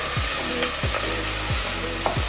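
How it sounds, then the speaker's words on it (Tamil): Onions sautéing in a pan, a dense sizzle broken by rhythmic scraping strokes of a spatula roughly every two-thirds of a second, close and fairly loud. "வெங்காயம் நல்லா வதங்க வேணும்"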